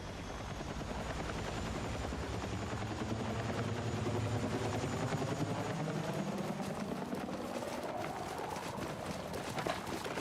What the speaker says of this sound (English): I'm tracking a hostile helicopter in the AO.